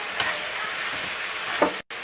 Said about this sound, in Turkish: Şimdi kavuruyoruz tavuğumuz iyice pişene kadar.